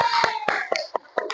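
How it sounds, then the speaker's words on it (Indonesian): A school class applauding a student group, giving a short run of separate, uneven hand claps close by in a classroom. "Sekali lagi nak, tepuk tangan untuk kelompok 3"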